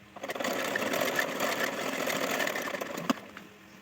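A sewing machine stitches a strip for a princess-cut blouse in a quick, steady whir that runs for a few seconds before stopping, close and alone.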